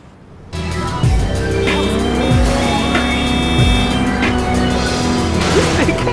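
A car pulls away hard after a quiet start, its engine revving up loudly and tires squealing in repeated sharp bursts as it accelerates close by.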